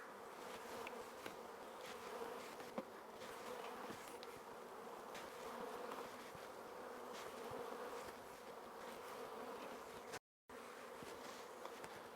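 Honey bees buzz continuously in a dense, droning hum around hive frames, fairly close, with no voices and only a brief dropout near the end.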